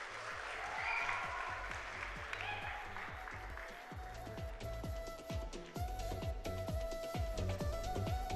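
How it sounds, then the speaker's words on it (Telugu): An audience at an event applauds, with dense, steady clapping from many hands that runs on throughout, loud and close, with some crowd noise mixed in. "ఎవరో తప్పట్లు కొట్టండి"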